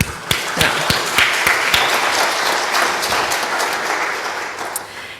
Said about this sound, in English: a round of applause to everybody